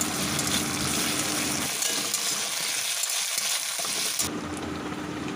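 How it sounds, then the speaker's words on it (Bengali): Onions being sautéed with cumin, coriander and ginger paste for a red spinach lentil dal, a loud close frying sizzle with stirring scrapes that dips briefly before the hiss returns. "এই সব কিছু দিয়ে ভালোভাবে কষিয়ে নেব।"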